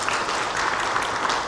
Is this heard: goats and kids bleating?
no